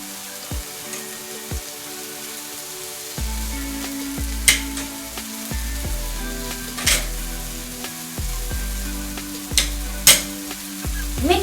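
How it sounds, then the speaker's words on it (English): Shrimp curry sizzles in a pan while a utensil stirs through it with cilantro powder and salt, giving a steady frying hiss broken by several sharp scraping strokes and clanks against the pan. "Mix it well. We should also put the cilantro powder and salt in now."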